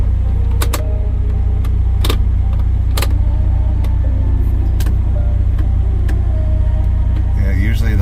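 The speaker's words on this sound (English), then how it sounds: "See if I can move the truck." An ice-coated truck idles with a steady low engine rumble during an ice storm as the driver tries to get it moving, with scattered knocks and clicks and a person talking over it.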